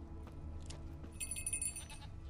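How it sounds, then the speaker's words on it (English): A goat in The Witcher 3 bleats a few times against a low steady game ambience, with a bell-like chime ringing in the middle. "So find Peller's goat using the bell and your witcher senses"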